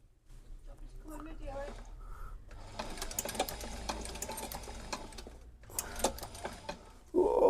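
A sewing machine stitches a repair on Cheaney Tamar boots, running in close, rapid mechanical bursts with short pauses, while a person talks intermittently.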